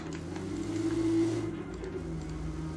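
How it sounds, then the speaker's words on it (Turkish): A car engine drones steadily while driving in PUBG Mobile, a continuous mid-level hum with a slight rise in pitch, no talking over it. "Aldık arabamızı ve gidelim."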